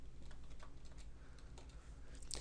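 Soft, rapid keystrokes on a computer keyboard while entering a number, a quick run of faint clicks over steady background hiss, with no voice.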